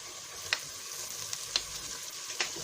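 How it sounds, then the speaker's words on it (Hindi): Onions and ginger paste fry in a pan with a steady, fairly quiet sizzling hiss, broken by three sharp taps of a spoon against the pan. "और अदरक के साथ प्याज को फ्राई करेंगे।"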